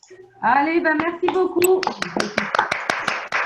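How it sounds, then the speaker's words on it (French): Scattered applause from participants on a video call, a quick run of uneven claps that starts after a voice speaks and continues under further brief talk. "je vais réactiver tous les micros pour que vous puissiez applaudir tous ensemble"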